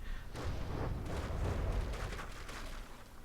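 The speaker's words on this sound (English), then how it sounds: "So just explosions all the way along." In the video game From the Depths, shells explode along a ship's hull in dense, continuous rumbling blasts and booms rolling on for several seconds, loud and crowded together with no clear gaps.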